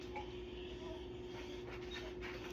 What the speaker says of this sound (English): Hold on, my dog is at the door.